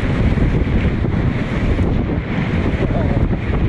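A tour boat roars across the water at full speed off Gran Canaria, with heavy wind buffeting the microphone and a continuous churning rush of engine and waves.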